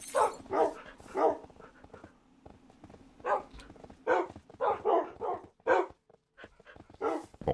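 A human voice mimics a husky dog, making a run of yelps, whines and bark-like bursts in irregular clusters with short pauses between them. It sounds close and fairly soft, and no other speech is heard.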